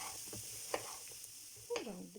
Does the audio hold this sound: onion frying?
yes